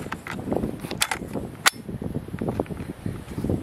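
A steel-lipped magazine with steel reinforced feed lips and front and rear steel lugs slides into a new gun, seating with a single sharp click partway through amid soft handling rustles and scrapes.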